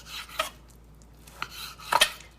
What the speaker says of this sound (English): now we're just cutting some slices